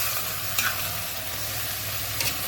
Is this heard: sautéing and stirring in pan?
yes